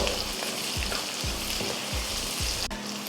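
Okra and onions fry in a pan, giving a steady loud sizzle with a few soft stirring scrapes on top, close and continuous, with no voices.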